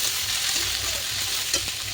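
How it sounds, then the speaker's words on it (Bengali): Onions frying in a pan on the way to a dhaba-style paneer curry, a loud steady sizzle close up with occasional stirring clinks, no voices. "পেঁয়াজটা ভাজা ভাজা হচ্ছে"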